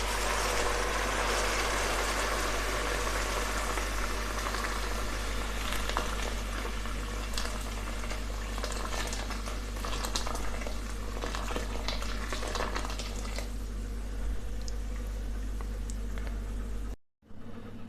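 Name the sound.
water added to tomato paste, simmering for rice dish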